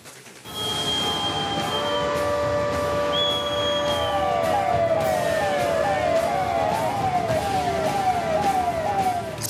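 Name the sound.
siren sounding during a civil defence mock drill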